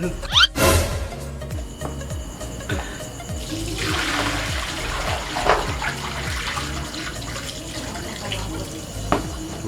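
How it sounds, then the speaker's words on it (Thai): Hand-rinsing a vintage shirt in plain water: continuous splashing and sloshing in a basin or tub, with water movement rising and falling, a couple of sharper splashes, and no voices. "แล้วเราก็ล้างน้ำปกตินะฮะ"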